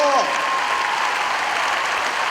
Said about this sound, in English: They all deserve a massive round of applause.